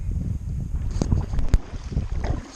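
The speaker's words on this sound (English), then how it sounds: "I'm going against the wind here." Wind blowing against a canoe paddled up a creek in about a 15 mph headwind, heard as steady broadband wind rush and microphone buffeting with a few sharp knocks and splashes, with no talking.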